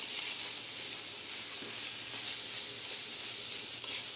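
Chopped onion frying with dried loitta fish, stirred in the pan, gives a steady close sizzle and hiss throughout with faint scrapes of stirring and no talk.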